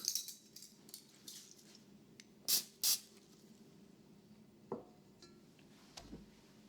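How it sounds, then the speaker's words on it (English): A couple of quick, sharp bursts of cooking oil spray onto a tablespoon, close and brief, followed by a light clink of metal against a dish. "we'll spray our tablespoon again just to make that come out a little easier"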